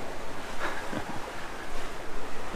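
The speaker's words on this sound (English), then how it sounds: "Just another windy day out in the Cyclades." Wind and waves around a heeled-over sailboat making about 7.5 knots in 15 to 18 knots of wind in the Cyclades, a soft steady hiss of water and breeze with a few splashing swells.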